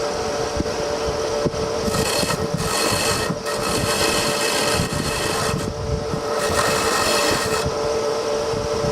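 Burr King grinder doing internal grinding on a metal part, a steady close, loud abrasive whir with a constant tonal hum and a continuous scraping grit layered on top, running without a break.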